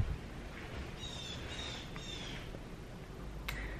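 Faint, high bird calls come through a constant low hiss, a short series of thin notes followed by one sharper chirp near the end.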